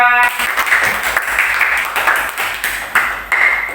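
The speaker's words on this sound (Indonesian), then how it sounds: "tepuk tangan untuk kelompok 3" Classroom applause for group 3 during a school coaching session; a short burst of clapping from a small group of students, fairly close and uneven, with no talk over it.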